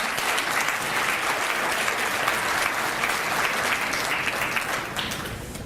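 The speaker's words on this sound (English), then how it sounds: "I want to give them a round of applause for always being here with us and supporting us" Steady, dense applause from a large audience at a fundraising dinner, sustained throughout and tapering slightly at the end, with no talk over it.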